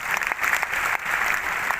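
A church congregation breaks into steady applause during a sermon, a brief dense burst of clapping with no voices on top.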